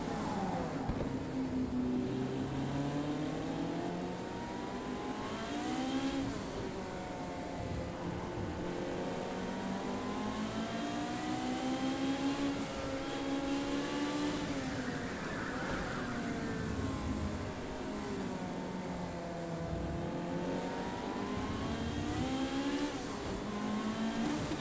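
A Ferrari in the racing game Project Cars 2 accelerates through its gears, its engine note climbing, dropping at each shift and climbing again in a continuous loud drone with no voices.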